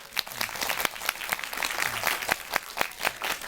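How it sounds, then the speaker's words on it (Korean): Audience applause at a post-screening talk with a film's lead actress, steady scattered hand claps from a moderate-sized crowd filling the room. "박수 한번 부탁드릴까요?"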